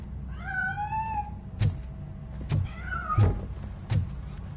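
A cat in the RoboCop video game meows, a drawn-out wavering cry twice, mixed with several dull thumps from the game, close and clear with no talk.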